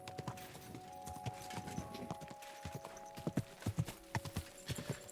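Horse hooves clip-clop in Kingdom Come: Deliverance II, a steady walking rhythm of close, distinct hoof strikes over a low hum, growing slightly louder toward the end.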